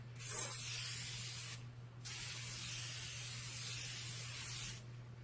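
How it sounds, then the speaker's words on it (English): An aerosol makeup setting spray fires in two long hissing bursts, the first starting with a sharp puff and the second running steady for about three seconds, close and alone over a faint hum. "I really like the aerosol."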